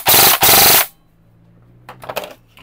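An upgraded high-power airsoft rifle shooting around 600 FPS fires in burst mode: two loud, sharp back-to-back bursts close up, then quiet with a few faint handling clicks.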